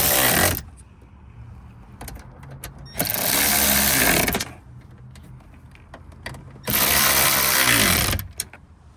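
A power tool tightens down the door mirror on a 2014-2018 Chevrolet Silverado, running in two loud, close whirring bursts of about one and a half and two seconds, with quiet handling between them.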